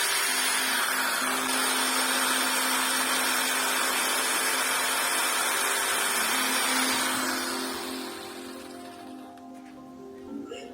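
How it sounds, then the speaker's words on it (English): A jigsaw saws through a wooden board with a loud, steady buzzing whine that fades out toward the end as the cut finishes, leaving faint rattling. "I had to flip over the board and then finish the cut on the other end."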